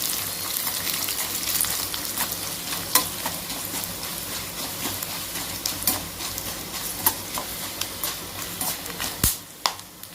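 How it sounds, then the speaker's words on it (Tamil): Dried red chillies fry and crackle in a pan, with a steady sizzle broken by sharp scraping stirs that grow more frequent toward the end, close and alone without talk. "நல்லா வறுத்துக்கோங்க"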